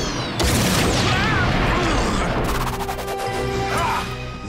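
A loud explosion effect from a kids' dinosaur action show erupts in a crashing burst, followed by rumbling debris and rapid metallic rattling as the blast dies away.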